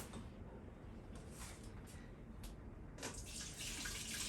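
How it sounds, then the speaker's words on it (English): Water pours into a coffee pot in a soft, steady trickle that grows fuller toward the end, heard up close with no talking. "the first thing I'm going to do is pour a little water in it"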